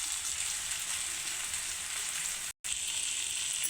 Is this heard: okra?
yes